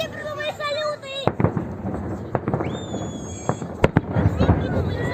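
Victory Day fireworks salute on 9 May in Belgorod: sharp cracking bangs and booms at irregular intervals, with whistling rising shells, heard outdoors under people talking.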